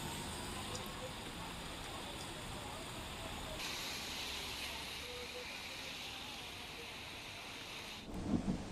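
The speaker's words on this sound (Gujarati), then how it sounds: "તો આપ જોઈ રહ્યા છો વાપીના દ્રશ્યો કે જ્યાં વરસાદી માહોલ સર્જાઈ રહ્યો છે." Heavy rain falls in Vapi, Gujarat, amid gusty weather, a dense steady hiss of rainfall that holds evenly, with a brighter wash midway and a brief louder rumble near the end.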